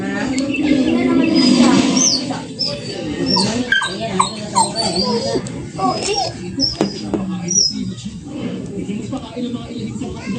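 A dog yelps and whimpers repeatedly close by, while people talk and birds chirp in the background.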